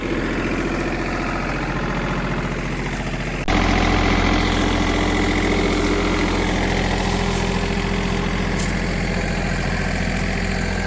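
A lawn mower engine runs at a steady idle-like drone, then abruptly gets louder and rougher partway through and keeps running continuously.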